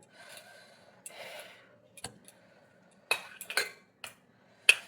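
Ceramic bowl and dishes clinking and scraping during a home rice lunch, with a few soft rubs early, then several sharp close knocks and clatters spaced apart, no talk.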